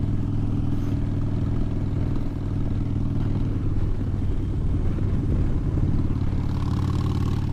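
Motorcycle cruising through Monsalvat Canyon, a steady, continuous engine rumble with wind roar and road clatter, fairly loud and close throughout with no talking.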